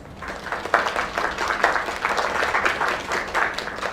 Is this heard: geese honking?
no